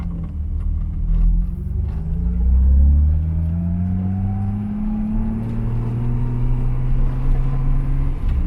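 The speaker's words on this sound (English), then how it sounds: "it's simply clutch in, go to neutral, clutch out, clutch in, go to gear, clutch out." A car engine during double-clutch gear shifts on wet roads, a steady close rumble whose pitch rises, dips and rises again as gears change, continuous throughout with no talk.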